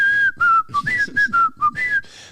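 A person whistles a melodic tune in a series of short, clear, close phrases, imitating a character's signature whistle as he walks.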